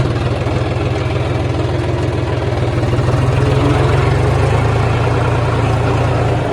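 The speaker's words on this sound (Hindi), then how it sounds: "ये लगभग 16 साल पुराना ट्रैक्टर है अपना" A roughly 16-year-old tractor engine idles close by, a loud, steady low rumble with an even chugging pulse and no break.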